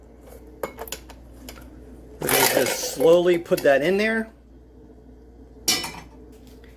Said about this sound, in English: the final step is just to throw in the 2 cups of ice